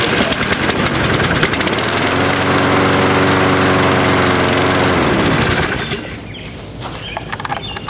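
A 21-inch walk-behind lawn mower engine catches and runs steadily at a loud, close drone, then cuts off near the end, leaving quieter outdoor ambience.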